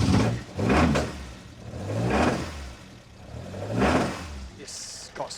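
A 1974 Alfa Romeo GT Junior fitted with a 2-litre engine revs in three or four rising bursts, each swelling and falling back, close by and moderately loud.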